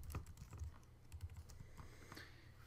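Someone types Java code on a computer keyboard, a steady run of quick, close clicks and key taps with no talking.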